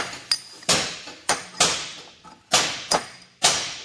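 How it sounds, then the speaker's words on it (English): Sharp hammer blows on a chisel knock worn packer rubbers out of a packer in a shop, seven loud metallic strikes at an uneven pace, each ringing briefly before fading. "Okay, now we've got to chisel them out."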